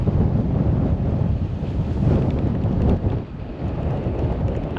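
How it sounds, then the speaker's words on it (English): Strong gusts buffet the microphone beside the Tennessee River in downtown Chattanooga on an extremely windy day, a loud continuous roaring rumble that eases briefly before returning. "I hope the wind's not too loud. It is extremely windy today."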